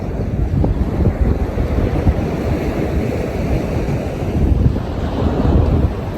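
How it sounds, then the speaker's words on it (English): Ocean waves wash up on a Florida beach in a continuous rolling surf, loud and close with heavy wind buffeting the microphone and no voices. "About to take the best nap of my life with these waves lulling me to sleep."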